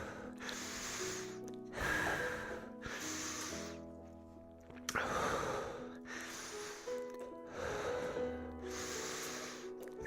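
Slow, heavy breaths come one after another between hangs in a grip training session, each broad rush of air rising and falling over a steady musical backing.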